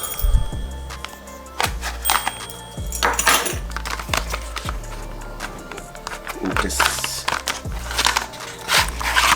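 Packaging for a Spigen EZ Fit tempered glass screen protector for a Samsung S23 is opened with crinkly plastic rustling and sharp clicks and knocks. The sounds are close and fairly loud, and a voice talks underneath them.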